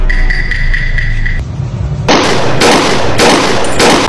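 Gunshots from a gun, a series of three loud, sharp bursts spaced about half a second apart, following a brief steady tone that cuts off before the shots.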